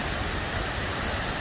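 Cascada de Mesulha, a waterfall in Mexico, pours in a loud, continuous rushing roar heard close up, steady throughout with no voices.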